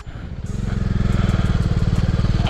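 Motorcycle engines rev loudly and steadily in a rapid, throbbing pulse, squeezing past a stopped bus near Tanot Mata Mandir in Jaisalmer, Rajasthan. The sound is close and builds after a brief start.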